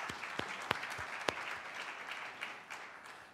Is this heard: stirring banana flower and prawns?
no